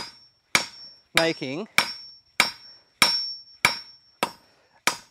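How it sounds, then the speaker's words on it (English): A hammer forging a longer taper for a gum leaf rings out in about eight sharp, evenly spaced metallic strikes, close and loud, with a brief spoken word between the first blows. "I want to forge a longer taper"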